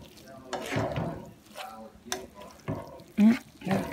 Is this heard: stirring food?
yes